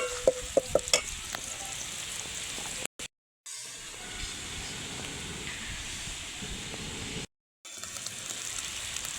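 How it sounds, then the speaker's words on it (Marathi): Coconut and ground masala frying in a pan, a loud continuous sizzle with a few sharp clinks of stirring at the start, broken by two short dropouts. "मी याच्यामध्ये थोडंसं खोबरं आणि जो आपण वाटून घेतलेला मसाला आहे तो परतायला टाकणार आहे"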